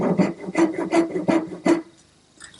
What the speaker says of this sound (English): I'm going to use my dovetail saw just to cut a slight recess.